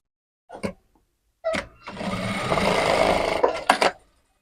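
Electric sewing machine stitching a seam in stretchy lycra fabric for a churidar pajami, with two short bursts and then a steady whirring run of about two seconds, close by and with no talking.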